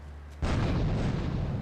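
A single deep, loud blast from a grenade in Grand Theft Auto III erupts suddenly and rumbles on as a sustained roar, following a quiet low hum.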